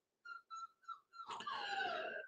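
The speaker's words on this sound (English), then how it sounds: "the puppies are whining" Puppies whine in a few short high-pitched cries at first, then break into a longer, louder wavering whimper, heard alone at close range.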